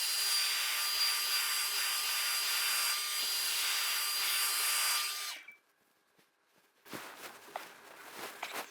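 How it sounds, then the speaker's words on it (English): A hair dryer blows steadily and loudly on freshly cut hair for about five seconds, then cuts off, leaving near silence before faint rustling and handling sounds follow. "it's blow drying quickly"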